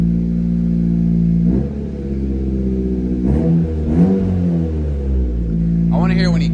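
A 10th-generation Honda Civic fitted with an Ark Performance exhaust idles with a steady low drone, then revs in short bursts that rise and fall before settling; a voice briefly sounds near the end.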